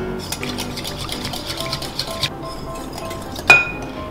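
Egg yolks are whisked in a bowl for a blueberry cheese pie, a fast steady metallic ticking of the whisk against the bowl, close, ending with one louder clink, no talking.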